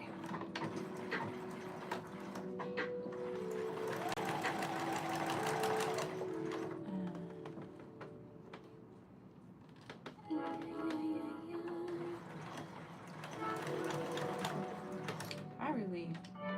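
A sewing machine stitches fabric in long steady runs with a whirring motor hum, broken by brief pauses, while a person talks quietly over it.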